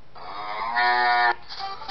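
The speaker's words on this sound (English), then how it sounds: "There's the cow." A cow gives a single drawn-out moo, close and loud, with no voices.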